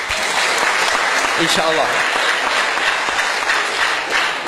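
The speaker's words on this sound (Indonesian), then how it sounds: "Tepuk tangan untuk pemerintah." An audience at an Islamic boarding school gathering in Cirebon claps for local officials, a dense, steady round of applause filling the room while a voice speaks over it.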